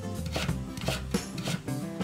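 A knife cuts carrot into 0.3 cm julienne strips on a board, giving a steady run of quick, close chopping taps, about two or three a second, with no talk.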